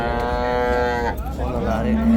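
Cattle at a crowded livestock market give loud, close moos, a long sustained low call followed by a shorter one, over steady crowd murmur and talking.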